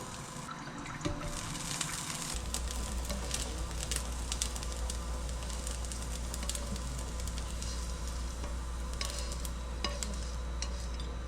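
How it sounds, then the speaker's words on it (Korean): Kushikatsu filling being stir-fried in a pan, a continuous wet sizzle and stirring with scattered scrapes and ticks, steady and fairly close, with a low hum underneath. "튀김만 빼고 속에 있는 거라도 좀 볶아서 먹겠습니다"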